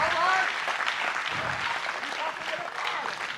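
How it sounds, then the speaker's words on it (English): Audience clapping at an evening family reunion gathering, a steady spatter of applause under a voice talking over it. "Put that applause in your back pocket for a minute."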